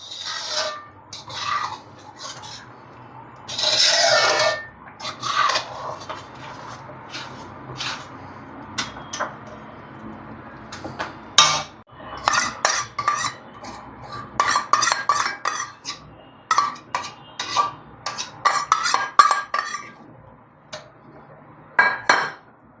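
A metal spoon scrapes and clinks irregularly against an iron wok while mawa is stirred into thickened carrot halwa, with bursts of scraping and light knocks and some quieter gaps.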